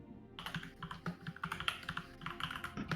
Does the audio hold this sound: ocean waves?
no